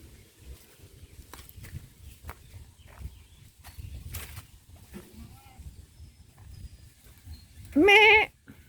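Goats penned on a farm in Libertad, Daanbantayan, Cebu give a single loud, close bleat near the end, after a long stretch of quiet shuffling and faint footsteps.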